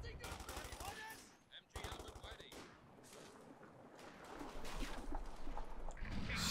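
Rapid bursts of MG42 machine-gun fire in Company of Heroes 2, a fast ripping rattle in several bursts amid other battlefield gunfire and rumbling, with a voice talking over the action.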